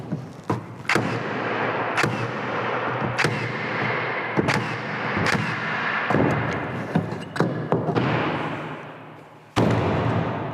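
Cordless framing nail guns driving nails into lumber, a run of sharp loud thwacks spaced roughly a second apart over a steady motor hum, close and without talking.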